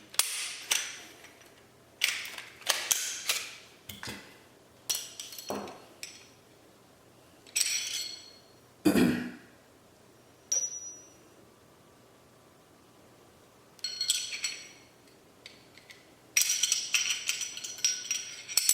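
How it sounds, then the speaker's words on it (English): A .40 cal Glock pistol barrel being handled and fitted into the pistol: sharp metallic clicks, clacks and scrapes in irregular close bursts separated by quiet pauses. "Let's go ahead and get the Glock barrel, or the 40 cal barrel back in here."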